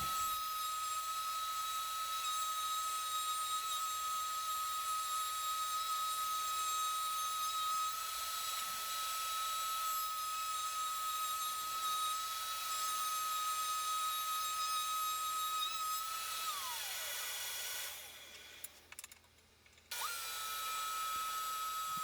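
A router bit spins with a steady high whine while cutting grooves into a plywood serving tray, then winds down and falls silent before starting up again near the end, with no talk.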